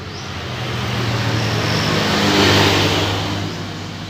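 A Honda Scoopy scooter engine, faulty with a rough buzzing sound, runs steadily close by, rising briefly as it revs before settling back, with no voices over it.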